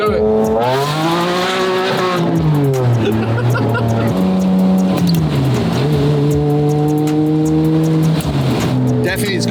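A Ferrari 550 Maranello with a bean can exhaust revs loudly and close by, its engine pitch rising and falling through several sweeps over about nine seconds.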